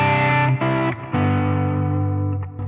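An electric guitar plays sustained, distorted chords through a drive effect on a Line 6 HX Stomp, loud and alone with no talk.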